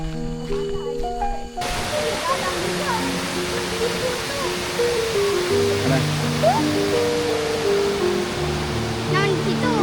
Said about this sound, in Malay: So sekarang ni dah sampai, kita mengalir ke air terjun.